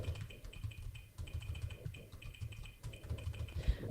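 Fairly quiet typing on a computer keyboard that is not the usual one, with a steady, irregular patter of key clicks and brief pauses, no voices.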